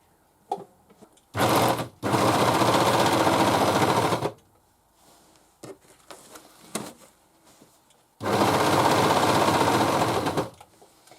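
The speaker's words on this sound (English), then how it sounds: "this is a 4-thread overlocker. It's a Janome." A Janome 4-thread overlocker runs in two long, loud, steady whirring bursts as it trims and finishes a fabric edge on a cushion cover, with brief quiet handling between the runs.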